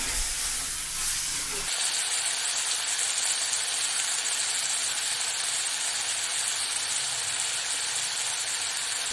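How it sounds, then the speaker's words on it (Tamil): Onion, tomato and prawns sautéing in a pan for a prawn and okra curry, producing a constant, even sizzle and steamy hiss that stays steady throughout. "வெங்காயம், தக்காளி, இந்த எறா நல்லா வதங்கிட்டோங்க."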